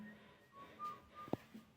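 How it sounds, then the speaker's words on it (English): Faint, thin whistling drifts from a yard outside at night, a few short tones against quiet room noise, with one brief sharp knock. "Escucho silbidos desde el patio."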